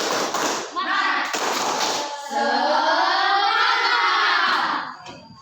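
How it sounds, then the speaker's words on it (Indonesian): A classroom group of students claps and chants a rhythmic 'tepuk semangat' cheer, loud and close, with bursts of claps followed by sustained shouted voices. "kita tepuk semangat dulu ya"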